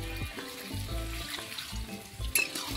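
Water hits a hot pan of fried cauliflower, potato and fish curry with a steady, close sizzle and bubbling hiss that stays even throughout, with no talking.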